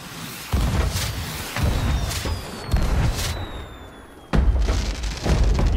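Ship cannons firing in Sea of Thieves: several deep booming blasts at irregular intervals, each followed by a rumbling tail, loud against steady ocean ambience.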